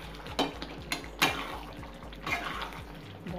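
Chicken being mixed with garam masala and chicken masala powder for spicy butter chicken, a few close clinks and scrapes of a spoon against the pot over a low steady background hum.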